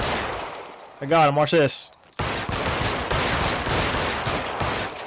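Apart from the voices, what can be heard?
gunshots from the video game L.A. Noire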